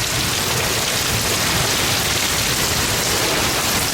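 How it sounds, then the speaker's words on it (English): Heavy rain pours steadily onto surfaces near a garage, a dense, loud, unbroken hiss with no pauses and no voices. "I can tell it's raining hard."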